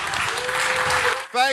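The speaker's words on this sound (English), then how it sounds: "Give him a big Sandown, New Hampshire round of applause" Audience applause at a town hall in Sandown, New Hampshire, dense loud clapping from a crowd, cut off near the end by a voice on the microphone.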